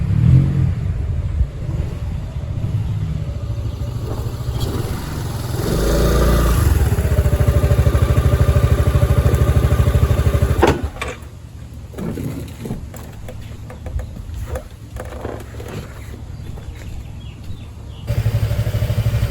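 A scooter engine runs steadily and fairly loud as the rider pulls up at home, then drops to a lower idle with clattering before revving again near the end.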